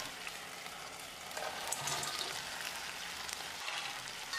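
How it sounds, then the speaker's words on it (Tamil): Pre-fried idli pieces hitting a hot pan with tomato sauce for hotel-style idli 65, making a steady broadband sizzle that swells slightly partway through, close and continuous with no talking. "இப்போ நம்ம ஃப்ரை பண்ணி வச்சுருந்த இட்லியை போட்டுடலாம்."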